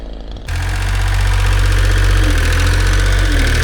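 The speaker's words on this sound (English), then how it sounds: "So I'm getting the green excavator fixed." A recently reconditioned green excavator engine, long left standing, fires up after a brief quiet start and settles into a loud, steady, low rumbling idle close by, with no voices.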